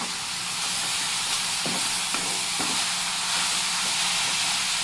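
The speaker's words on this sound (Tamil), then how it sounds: "நல்லா வதக்கிடுங்க." Onion and carrot with turmeric and salt sautéing in a pan, a steady close sizzle with a few sharp scrapes of stirring, no voices.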